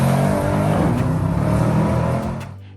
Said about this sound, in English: The exhaust pops on overrun.